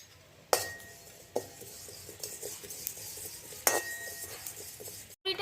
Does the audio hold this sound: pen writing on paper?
no